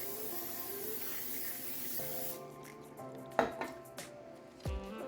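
Cooking spray hisses steadily onto a casserole dish in a home kitchen, then gives way to quieter clinks and a few sharp knocks of the dish and utensils.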